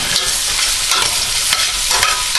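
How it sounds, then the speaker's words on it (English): Vegetables for chow mein stir-frying in a hot pan, a loud continuous sizzle with stirring scrapes and tosses close by, no voices over it. "I'm going to throw the rest of these vegetables in here"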